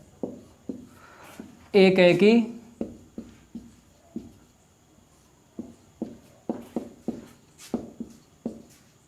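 Notes being written on a board during a maths lesson produce a series of short tapping and scratching strokes at an uneven pace, briefly interrupted by a voice speaking.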